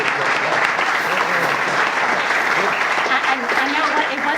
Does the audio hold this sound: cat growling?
no